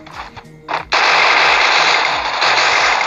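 Gunfire rings out in the Free Fire mobile battle royale game. A few scattered shots come first, then a loud, sustained automatic burst runs continuously to the end, close and dominant.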